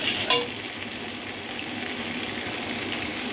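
Spice paste frying with soft, broken-down potatoes in a pan for a pointed gourd and lentil fritter curry, a steady close sizzle with a brief louder stir scrape near the start, no voices.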